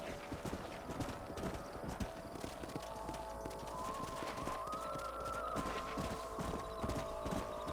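Horses in Red Dead Redemption clip-clop steadily in a dense, continuous patter of hooves, with whinnying and a rising tonal call mixed in over a busy outdoor game soundscape.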